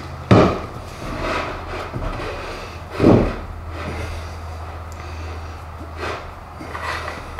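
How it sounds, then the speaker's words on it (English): A hammer knocking the jaw pins out of a Wilton vise, a few sharp metallic strikes spaced unevenly over several seconds against a low background hum, with no talking. "let me get a hammer and let's see if we can knock those pins out"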